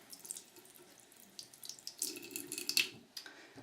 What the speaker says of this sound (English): we're going to turn on our lukewarm water, run it under, get it nice and wet.